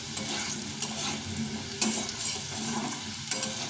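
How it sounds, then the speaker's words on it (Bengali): Potatoes stirred and frying in oil in a pan for a mild potato and tomato curry, with a steady close sizzle and recurring scraping stirs, no talking. "আমি এইভাবে আলুটাকে সুন্দরভাবে ভেজে নিলাম সাদা করে ভেজে নিলাম"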